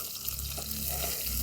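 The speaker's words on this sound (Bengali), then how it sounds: "লাল লাল করে ভেজে নিচ্ছি।" Catla fish heads fry in hot oil in a pan, giving a steady, close sizzle that crackles evenly throughout with no voices.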